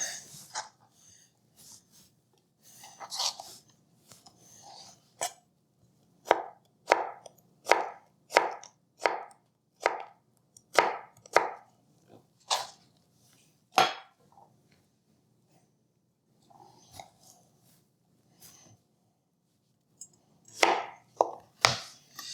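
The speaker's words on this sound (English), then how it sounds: "I'm going to cut it this way, make little thin matchsticks" Knife chopping vegetables into thin matchsticks for Korean vegetable pancakes, crisp close taps on a cutting board coming in quick runs of strokes with short pauses between bursts.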